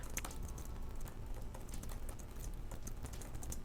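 Rapid typing on a Razer Blade 15 laptop keyboard: dense, steady clatter of key presses up close, continuous and alone without speech.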